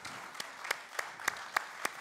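Sparse, rhythmic clapping from a small audience at a cooking contest: single sharp claps spaced evenly, about three per second, fairly quiet in an otherwise still room.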